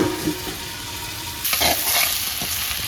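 Potatoes fry in a pan with a loud, continuous sizzle, broken by a few stirring scrapes, the hiss growing brighter and stronger partway through.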